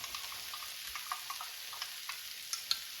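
A black pepper sauce being mixed, with a quiet sizzling hiss and light, regular clicks and taps of a utensil against the pan.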